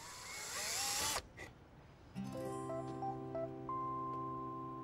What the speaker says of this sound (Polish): Tata wierci wiertarką otwory.